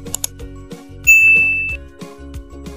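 A bright electronic notification ding rings out once and sustains briefly over a soft, rhythmic background music bed.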